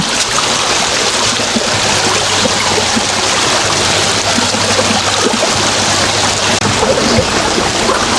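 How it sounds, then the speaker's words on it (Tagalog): Strong water current rushes continuously through a fishpond, a loud, close, steady roar of flowing water with a low hum running beneath it and no pauses. "Nadadala si Francis sa agos ng tubig."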